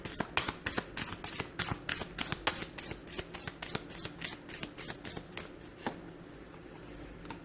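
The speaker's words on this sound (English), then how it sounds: "shall we give the angel cards a shuffle" A deck of angel cards being shuffled for a tarot reading, a quick run of crisp riffling flicks in a steady rhythm, close and clear, fading out near the end.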